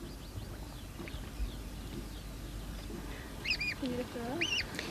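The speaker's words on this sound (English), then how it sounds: "That's Maori for whistle, something the cygnet is noticeably good at." Thin, rising whistled calls from a cygnet in Rotorua repeat several times against a steady outdoor background hum, with duck-like quacks mixed in.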